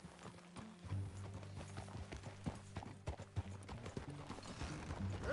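Horse hooves clip-clopping in a video game, a steady rhythmic trot of hoof falls at moderate volume over a low humming music bed, with no talk.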